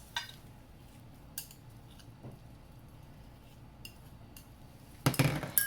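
Cooked mushroom and meatless crumbles are spooned into a dish for a vegan lasagna, with faint scattered clinks and then a louder wet, scraping clatter near the end.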